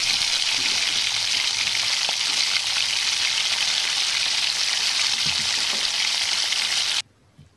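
Vermicelli (shevai) frying in a pan for upma: a steady, dense sizzle that holds loud and even, then cuts off abruptly near the end.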